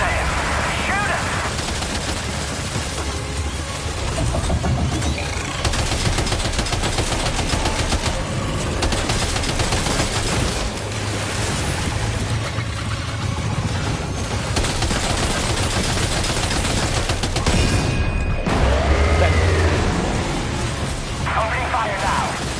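Sustained video game gunfire in an indoor firefight, continuous loud automatic bursts with explosions, under overlapping talk throughout.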